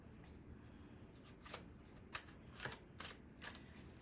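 Tarot cards shuffled by hand, quiet and close, with several short crisp riffling bursts spaced irregularly over a faint background hum.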